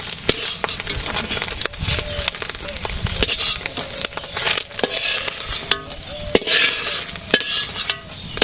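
Eggs frying in a pan with turmeric and chili: a loud, busy sizzle and crackle with rapid stirring, scraping and clinks of a utensil on the pan, a few faint voices in the background.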